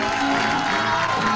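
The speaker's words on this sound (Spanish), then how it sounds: "este aplauso es para ustedes, queridos amigos, más grande" Audience applauding performers at a show, dense close clapping with crowd noise and some voices mixed in, brief and loud throughout.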